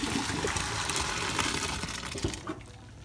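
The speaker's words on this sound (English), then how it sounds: "And now we're gonna drain this macaroni." Boiled macaroni poured out to drain, giving a steady, close rush of water splashing through a colander that runs for a few seconds and thins to a trickle at the end.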